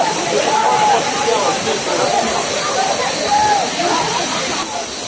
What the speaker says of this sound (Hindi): मेरे पीछे है दूध सागर वाटरफॉल